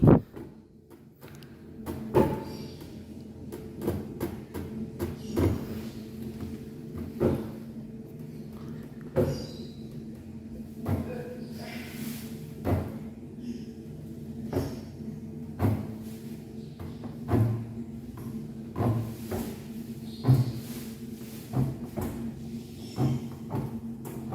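An automatic prototype door for an oxygen flow control system closes with a series of regular mechanical clicks and soft thuds, repeating every couple of seconds over a low electronic hum.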